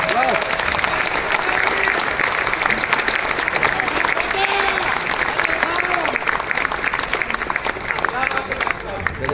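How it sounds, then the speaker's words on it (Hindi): Sustained, loud audience applause in a large hall during a session by a heart surgeon, dense continuous clapping with crowd voices mixed in throughout. "आप लोग उन लोगों के लिए तालियां बजा सकते हैं"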